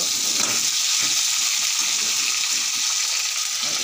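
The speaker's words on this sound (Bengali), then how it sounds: "আর এই যে আলু ভাজাটা হচ্ছে" Steady, dense crackle and hiss of potatoes frying in hot oil, continuous and fairly close, with no talking.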